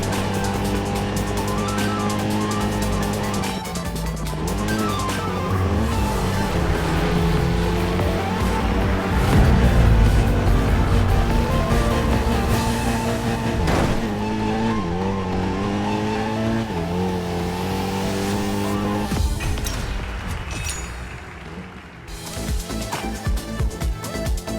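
A race car in the Racing Master mobile game roars continuously, its engine pitch climbing through repeated gear shifts with rising whines and brief drops, loud and close throughout with a faint skid near the end.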